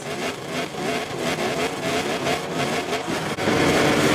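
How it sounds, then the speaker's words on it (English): Racing motorbikes in the MotoGP 24 video game rev their engines on the grid before the start of a Catalan GP sprint race, a dense, continuous, loud engine roar with rising and falling throttle blips throughout. "Riders are lined up on the grid with Pecco Bagnaia in pole position and ready to start."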